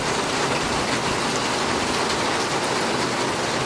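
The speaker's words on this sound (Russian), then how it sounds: "Прямо такой настоящий сочинский дождик у нас." Heavy rain pours steadily onto surfaces in Stavropol's Alexandrovskaya Square in stormy weather, a dense, continuous hiss of drops close by with no pauses and no voices.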